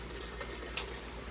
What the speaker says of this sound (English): so there's water coming through here